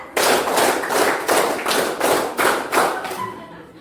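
Rhythmic clapping in a counted pattern, about nine sharp claps spaced roughly evenly with a few closer pairs, loud and near with no talking over it.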